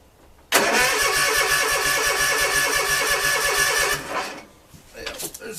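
A flooded Toro 50 engine cold-starts with a sudden loud catch, then runs roughly at a fast, uneven idle for several seconds before cutting out, with faint sounds and a brief sputter afterward.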